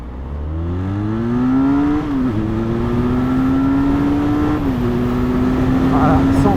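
A 2022 Benelli 502c motorcycle accelerates hard from standstill to 100 km/h, its loud close engine note climbing through gears with brief dips at each shift, wind noise underneath.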